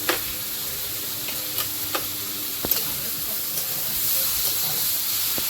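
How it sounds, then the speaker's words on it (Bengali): Tomatoes and green chilies sizzling in hot oil in a pan, an even hiss with sparse sharp clicks of stirring, close by and without speech. "এর মধ্যে এবারে টমেটো আর কাঁচা লঙ্কা"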